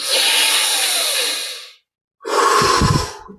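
A long, close exhale in yoga breathing, followed after a short pause by a second forceful breath with some low rumble.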